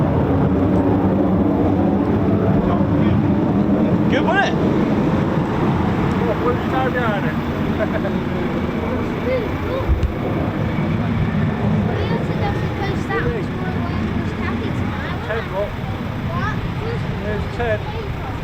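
An RAF Typhoon FGR4 fighter jet roars after an aileron roll, a broad, steady rumble heard at some distance under wind noise, with people talking and cheering over it.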